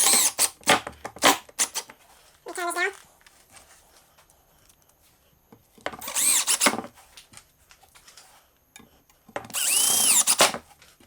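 A power drill drives screws into wood for a rustic coat rack in several separate bursts: quick short whirs at the start, then longer whining runs later, close and loud with quiet gaps between.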